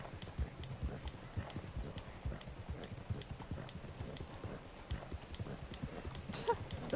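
Horse hooves gallop in Red Dead Online, a steady rapid clip-clop running throughout at close range, with a brief whinny near the end and game ambience behind.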